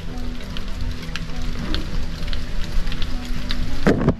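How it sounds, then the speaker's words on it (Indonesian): Light drizzle pattering steadily on an old, rotting roof, with rainwater dripping from the roof tiles in a soft continuous wash and a brief nearer rustle near the end. "Dan masih gerimis teman-teman. Nih, airnya udah pada turun ya dari genteng."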